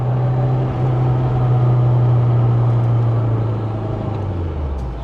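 A Lancia Delta Integrale Evoluzione, an old two-litre turbocharged rally-bred car, drones loudly and steadily up close, its low engine note holding steady before sinking lower near the end, with no voices.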